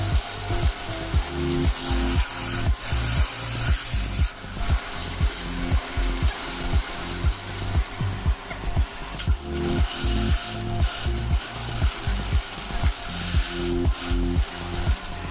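A drill machine bores 10.5 mm holes into a metal sandal mould in an Indian shoe mould factory, a loud steady rhythmic grinding with repeated pulses throughout, no voices.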